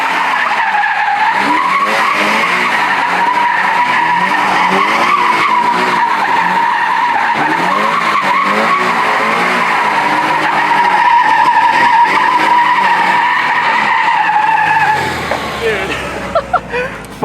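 A car driven hard on a salty road, tires skidding and squealing in a long sustained wail with engine strain, close and loud, easing off at the end while people talk over it.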